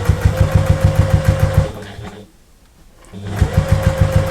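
A sewing machine stitches fabric for a large storage bag, running in a fast, steady, close chatter of rapid needle strokes, then pausing briefly before starting up again.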